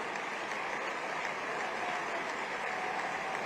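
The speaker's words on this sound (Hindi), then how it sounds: "जोर से ताली बजाइए जरा पूरा सदन" A packed hall at a startup conclave claps continuously, a faint, even wash of many hands with no breaks.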